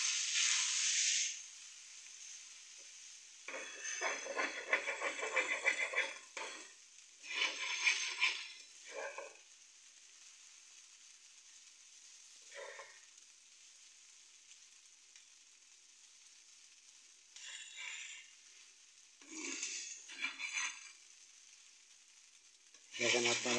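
Noodles fry in a pan in bursts, with intermittent loud sizzling and stirring scrapes separated by quieter stretches of faint hiss.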